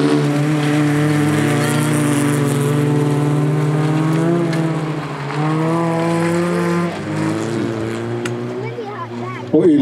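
Race cars in a women's final lap race past, their engines whining in rising and falling pitch as they pass, under steady commentary from an announcer.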